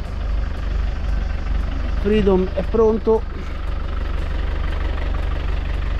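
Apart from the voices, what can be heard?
camper engine running, ready to leave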